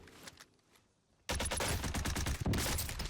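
Gunfire in the Call of Duty Warzone battle royale video game: a few scattered shots and quiet moments, then a sudden burst of rapid automatic fire that stays loud and dense to the end.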